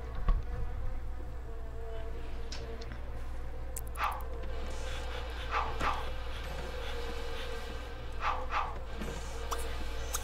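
A steady, droning buzz of bees in The Sims 3 hangs over a low hum, broken by a few short, distant yips.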